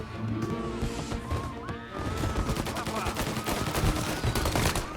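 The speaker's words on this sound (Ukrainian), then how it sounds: "та ти що, стріляєш, да? Не попадаєш." Rapid gunfire rattles in a shooting game played at a birthday party, dense bursts of shots with sharp cracks and clatter, while synthetic tones sweep underneath early on.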